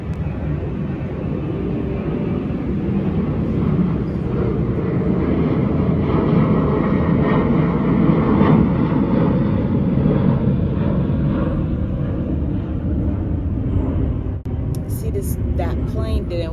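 Fixed-wing airplane flying overhead outdoors, a steady broad roar sustained loudly through the whole stretch while a person talks over it.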